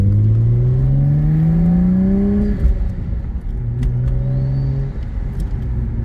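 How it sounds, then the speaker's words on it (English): A turbocharged car engine with no burble tune revs in long rising pulls, a steady loud whirring drone climbing in pitch, easing off, then building again. "That turbo sound nice."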